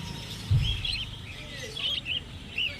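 Small birds chirp and tweet in short high bursts at a bird market, moderately near, over a low background murmur with a brief thump early on.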